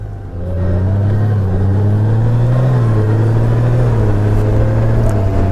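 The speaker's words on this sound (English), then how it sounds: "Now the bike is shifting smoothly" A 2021 motorcycle accelerating through its gears, a loud, steady engine drone whose pitch climbs and briefly dips at a shift, close by and continuous with no voices.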